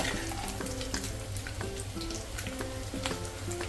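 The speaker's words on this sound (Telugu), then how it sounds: "సో ఈ విధంగా మనము వేయించుకోవాలి" Dried fish frying in a pan, a dense, close crackling sizzle with rapid pops, under a low steady hum with faint tonal ringing, no speech.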